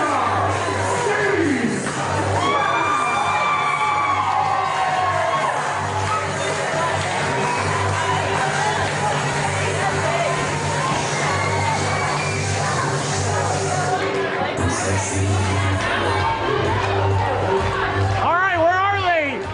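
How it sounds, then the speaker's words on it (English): A wrestling crowd cheers and yells as a wrestler comes out, a constant loud roar of voices with whoops and shouts, with a steady low hum underneath and people talking through it. "When Superstar Steve Bob comes out, the crowd goes crazy."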